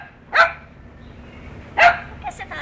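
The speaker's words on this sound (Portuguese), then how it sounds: "Por que você tá latindo tanto?" A dog barks twice, each a short sharp bark about a second and a half apart, fairly close, with a couple of fainter yips at the end.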